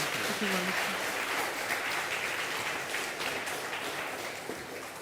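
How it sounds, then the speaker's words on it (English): A church congregation applauds the bell choir and choir, a sustained even patter of many hands clapping that fades a little near the end, with a brief voice early on. "Let's have a round of applause for everyone."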